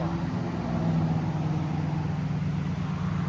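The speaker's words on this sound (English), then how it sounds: "Very quiet at idle." A 1965 Oldsmobile Starfire with a 425 V8 and Borla ProXS true dual exhaust idles steadily, a smooth, quiet, even low rumble held close and constant throughout.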